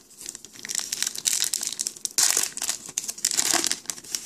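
A 2014-15 Upper Deck MVP hockey card pack is torn open with loud, close crinkling and ripping foil wrapper sounds in quick irregular bursts, with no talking.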